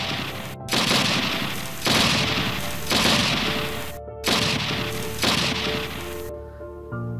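A gunfire sound effect for a Tagalog horror story, shots echoing from below in a forest: about five loud, sustained automatic volleys in quick succession, each ringing out briefly before the next, with no voices.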